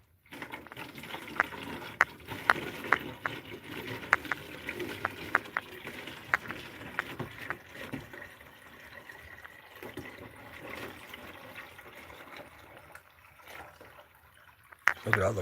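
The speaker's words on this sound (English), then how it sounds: "Me filling my water jug every morning." Running water pours into a water jug at a cabin in the morning, a steady trickling splash punctuated by sharp clicks and knocks, with a voice speaking over it.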